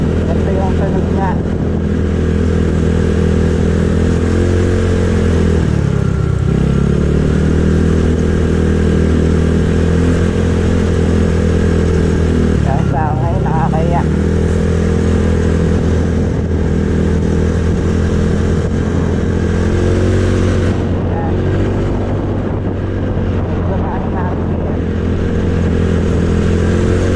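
A motorcycle engine idles at low RPM, a loud, close, steady rumbling throb with a few brief blips of revving, continuous for the whole stretch.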